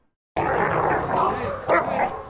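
Dogs playing rough bark and yip in quick overlapping bursts, loud and close, after a brief silent start, with a sharper bark near the end.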